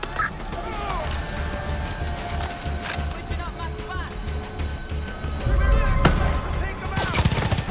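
Gunfire in the game Far Cry 5, repeated sharp shots with a louder burst near the end, heard among other game sounds and a talking voice.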